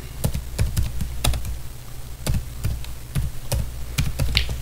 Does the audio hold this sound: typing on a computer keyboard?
yes